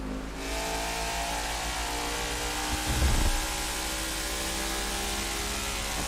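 Race car engines roar steadily in a NASCAR 22 race at Gateway, a continuous loud mid-pitched drone with a brief swell of revving near the middle, no talk.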